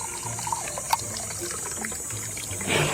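Water poured out steadily in a continuous trickle during an outdoor break, a broad splashing wash that swells louder near the end.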